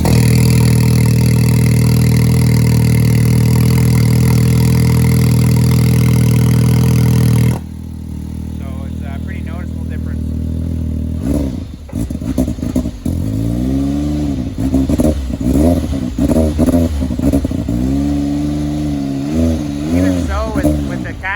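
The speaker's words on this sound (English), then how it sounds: "you can hear a little bit more turbo noise just through the straight exhaust" A steady, loud engine drone from a Can-Am X3 side-by-side with a titanium straight exhaust gives way to a quieter idle, then it revs repeatedly in sharp bursts with turbo whoosh as someone talks.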